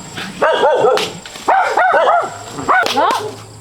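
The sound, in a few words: dogs barking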